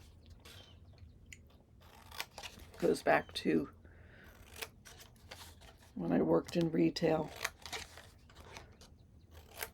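Crisp scissor snips and paper crunching in a few short bursts while a person talks steadily over them.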